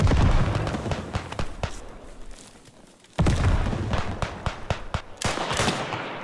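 A grenade explosion in Beyond The Wire's Chateau-Thierry battle hits as a sudden loud, near blast after a brief lull, set among ongoing rifle and machine-gun fire with scattered sharp shots around it.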